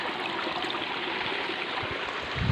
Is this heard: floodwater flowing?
yes